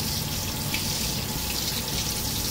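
Apricot kernels and candied dates being rinsed under running water for a cordyceps soup, a continuous steady splash of tap water into a sink, close and even, with no voices.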